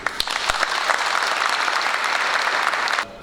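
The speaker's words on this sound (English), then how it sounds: "I would suggest that we all need to give them a round of applause" A ceremony audience applauds graduates at the UK Versity ninth annual graduation ceremony in Manchester, with loud, dense, sustained clapping that runs for about three seconds and then stops abruptly.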